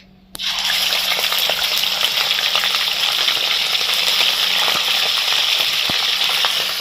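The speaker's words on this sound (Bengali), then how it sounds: "এবার চিকেনগুলোকে একটু ভেজে নেবো" Chicken pieces drop into fully heated oil for a Bengali chicken kosha, bursting into a loud, close, steady frying hiss that holds without a break.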